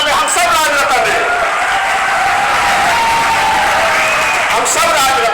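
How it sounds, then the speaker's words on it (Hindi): Dense, steady crowd applause at a Hindi poetry recital fills the whole stretch at close range, with voices and cheering mixed into the roar and a tonal whine running underneath. "एक बार तालियां लगना चाहिए"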